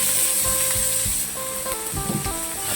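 Pieces of pork fry in a hot wok with a close, steady sizzle and some scraping stir sounds, brief and without talk.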